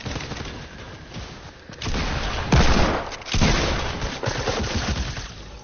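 Shotgun fire in a video game, a dense run of booming blasts and crackling bursts with loud peaks around the middle, heard alone without talk.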